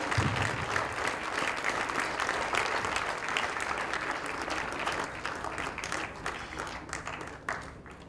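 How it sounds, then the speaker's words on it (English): An audience at a junior ICT championship awards ceremony in India applauds steadily, with dense clapping throughout that gradually thins toward the end. "Can we clap hands, guys?"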